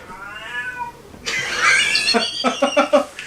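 A cat meows several times, one long drawn-out call followed by a rapid series of short, loud, close-up cries.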